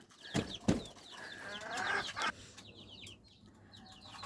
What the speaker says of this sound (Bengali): এখনও একটা মুরগি বসা আছে, কয়েকটা মুরগি ওইখানে যেয়ে ডিম পারছে